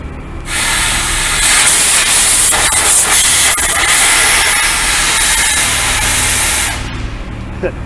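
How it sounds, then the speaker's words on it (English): A loud, steady hiss of CO2 sprayed onto a mobile A/C H valve, continuous for several seconds, starting abruptly and cutting off sharply. "I'm going to put the CO2, spray it right on there."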